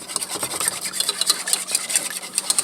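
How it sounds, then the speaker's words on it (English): A spoon scraping and rubbing through a thick roux with a squirt of mustard stirred in, a steady close-up rasp of repeated strokes with no voices. "I'm going to stir all that in."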